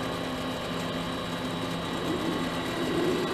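A mini lathe runs steadily while machining nuts, a constant motor hum with a faint whine and a slight rise in cutting noise near the end; no voices.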